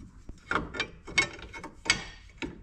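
A repaired blower part on a John Deere 2955 tractor slides in its metal track, giving a series of sharp clicks and scraping clacks at irregular intervals, close and fairly quiet with no talking.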